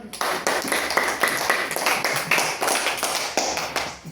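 Classroom applause for a student group: a small class claps in a quick, uneven patter of distinct hand slaps, fairly close and steady for about four seconds, with no talking.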